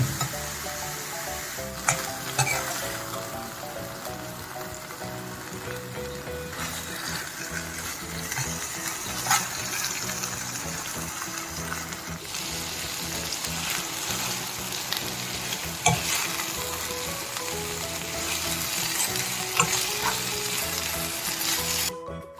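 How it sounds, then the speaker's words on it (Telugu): Fish curry of Godavari cheeramenu (tiny fish) simmering in a pan, with a steady close sizzle and bubbling and repeated scraping and clinking as a spoon stirs it, no talk. "సిమ్లో పెట్టి ఇలాగే కూర అంతా కలుపుకుంటూ ఉండాలి."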